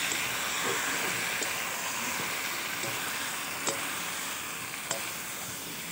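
Meat being sautéed in a pan gives a soft, steady sizzle and hiss, fairly faint and continuous, with a couple of small clicks of stirring.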